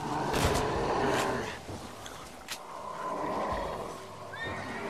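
A horse in Red Dead Redemption: Undead Nightmare whinnies loudly in several drawn-out calls, with hoof clip-clops and rustling around it, fairly close.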